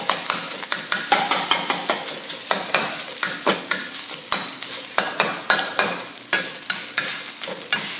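A spatula scrapes and tosses fried rice around a frying pan, giving rhythmic, repeated scraping strokes over a constant loud sizzle, close and without talk.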